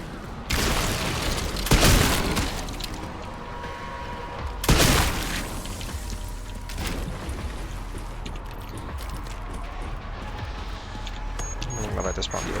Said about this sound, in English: I'm gonna use a stacked hand grenade here